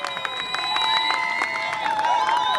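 A soccer crowd at Campo Guerreros cheers and whistles after an equalising goal in an NPSL match between Orange County FC and Oxnard Guerreros FC, shrill whistles and shouts rising over a steady roar.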